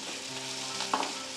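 Pirandai (adamant creeper) sautéing in oil in a pan for pirandai kulambu, a steady close sizzle with a brief stirring clatter near the end, no talking.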